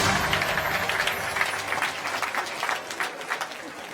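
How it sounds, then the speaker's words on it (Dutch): Audience applause for a quiz winner at a live sports and business awards evening, steady clapping from a crowd throughout with no speech over it. "Een groot applaus voor de winnaar"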